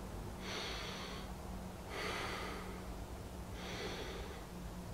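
A slow deep diaphragmatic breathing demonstration: three long, steady breaths drawn in and released at even intervals, close and quiet with no talking.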